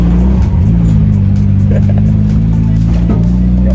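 A Nissan Silvia S14 drift car idles and rolls through a slow U-turn, its steady low engine drone close and continuous throughout, with people talking inside the cabin over it.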